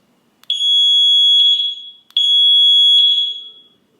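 Two long, piercing electronic horn blasts from a Segway Max G2 electric scooter, very loud and close, each holding a steady high tone for over a second before cutting off.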